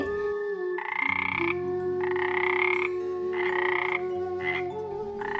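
Cartoon frogs croak loudly and rhythmically in repeated long, buzzing bursts, close and continuous over a steady droning background.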